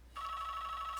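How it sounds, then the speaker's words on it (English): A telephone rings with a single sustained electronic tone that starts abruptly and holds steady, faint against a low background hum. "sorry about the phone ring there if you heard that."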